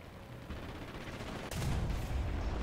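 An aircraft gun fires in the War Thunder combat flight game, faint bursts of rapid autocannon shots with a heavier, louder stretch of firing in the last second.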